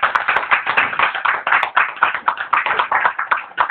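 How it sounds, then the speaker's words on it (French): A church congregation at a French-language worship service claps vigorously. The dense, rhythmic applause sounds close and fills the whole moment with no voices. "On acclame puissamment."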